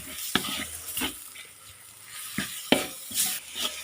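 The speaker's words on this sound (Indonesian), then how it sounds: "Jika tumisan tempenya sudah agak mengering, kemudian masukkan irisan daun bawang. Diaduk kembali." Sautéed tempeh filling with sliced spring onion being stirred in a pan for combro, a few scraping strokes of a spatula over a soft sizzle, close and intermittent.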